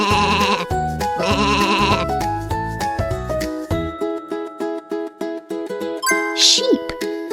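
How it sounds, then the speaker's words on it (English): Sheep bleating in a guess-the-animal-sound quiz, several wavering bleats following a stretch of bright music, with a short chime near the end. "Sheep! You are right!"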